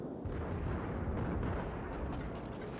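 Cruiser guns on a Cleveland in World of Warships rumble in a dense, continuous barrage of low booms with no clear breaks between shots, at a moderate level and with no voices.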